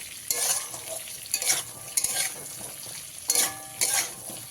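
Grated coconut stirred in a pan, with scraping spoon strokes in short bursts over a soft, steady sizzle; no voices.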